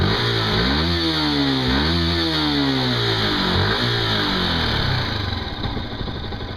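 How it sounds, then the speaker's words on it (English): A Yamaha YZF R125 motorcycle engine revs up and falls back in two or three rising-and-falling sweeps, its single-cylinder drone loud and close with a steady buzzing tone throughout, no voices. "It doesn't sound too bad when you give it a bit of revs though."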